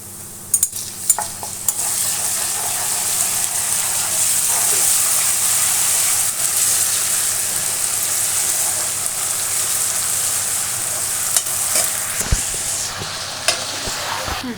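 Ginger garlic paste sizzling and frying in a pan for an eggplant masala, a loud steady crackling hiss with occasional stirring scrapes and clinks, no talk.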